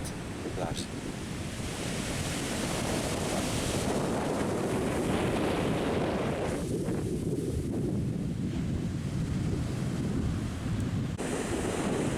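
Pacific Ocean surf on a cloudy rainy-season day, a continuous roar of breaking waves mixed with heavy wind buffeting the microphone, loud and close throughout.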